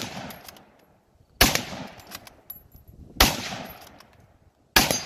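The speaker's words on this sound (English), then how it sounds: "he's going to do a mag dump challenge with a Mauser" A Mauser bolt-action rifle is fired rapidly to empty its magazine. Three loud, sharp outdoor gunshots come about two seconds apart, each with a short echoing tail, and faint background noise fills the gaps.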